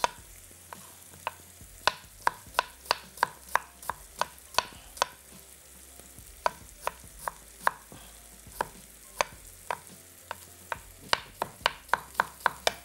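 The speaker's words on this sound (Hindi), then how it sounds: "स्ट्रेट खड़ी प्याज को काट लिया जाएगा" Onions sliced with a knife on a board, cut upright, in a long series of crisp, sharp chops, sometimes quick and clustered and sometimes spaced out, close and clear with no talking.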